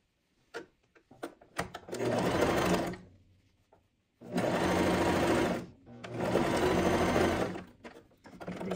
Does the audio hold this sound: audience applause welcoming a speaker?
no